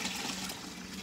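Steady rushing of water pouring into a metal waterer, a continuous close trickle and splash with no pauses.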